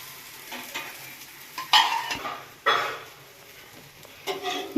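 Oil sizzles in a pan while pudla, a gram flour pancake, cooks, a steady close frying hiss broken by louder bursts of spreading, stirring and utensil scrapes.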